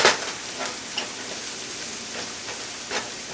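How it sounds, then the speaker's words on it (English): Garlic frying and stirred in a pan for sweet and spicy noodles, a continuous hissing sizzle with several soft scraping stir strokes and small pops scattered through it. "Alright, we're gonna stir that in."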